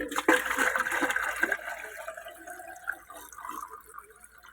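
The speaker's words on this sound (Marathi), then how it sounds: "आता या बकेटीतलं पाणी या डब्यात टाकावं लागते आपल्याला" Water poured from a bucket into a container, a close splashing gush that starts abruptly, fills steadily, then tapers to trickles and drips as the pour ends.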